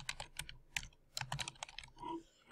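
Rapid keystrokes on a computer keyboard as a file name is typed into a destination field, a quick irregular run of close, crisp clicks with brief pauses, heard alone.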